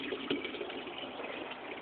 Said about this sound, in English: I'm going over here and directly dumping water into the 15-gallon water tank